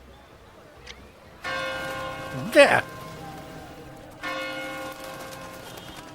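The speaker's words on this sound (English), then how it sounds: "Who does that bell toll for?" A bell tolls twice with long ringing tones in the horror film Exorcist: Believer, separated by a pause, and a brief voice speaks between the strikes.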